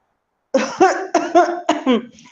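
Three close, harsh coughs in quick succession in an audio drama, each a rough voiced burst following the last after a brief pause, emerging from silence.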